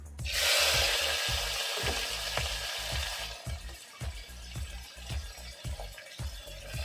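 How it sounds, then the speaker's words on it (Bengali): Onions hit hot oil in a pan with a sudden loud sizzle that fades after a few seconds, while a spatula scrapes and stirs in a steady repeating rhythm, with no talking. "তেল গরম হয়ে গেছে, এখন পেঁয়াজ দিলাম"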